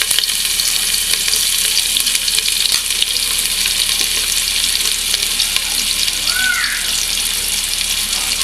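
Rice fries in mustard oil with a bay leaf and chopped onion for Old Dhaka chicken tehari, a loud, steady sizzle with hiss and occasional stirring scrapes, close and continuous without talk.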